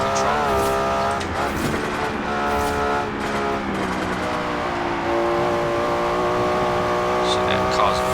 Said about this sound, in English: we've got almost 800 horsepower in a nice tight little car, very light little car as well